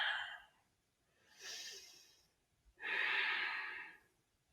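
Slow, deep breathing during yoga practice, heard up close and quiet: an inhale, a longer exhale, then another strong breathy exhale, each a soft airy rush separated by short silences.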